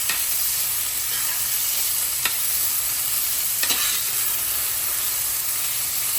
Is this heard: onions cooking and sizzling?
yes